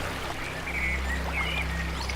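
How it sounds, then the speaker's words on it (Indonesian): A stream trickling and splashing over rocks, a continuous, moderately loud gurgling flow with a few brighter splashes rising over it. "Anda bisa mendengar suara air yang menetes dan memercik ke bebatuan"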